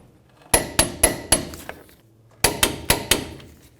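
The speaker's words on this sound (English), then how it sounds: "Let's torque these bolts to 130 foot-pounds." Torque wrench tightening the caliper mounting bolts on a 2002-09 Dodge RAM 1500 to 130 foot-pounds: two close, loud groups of four sharp metallic clicks, separated by a short pause.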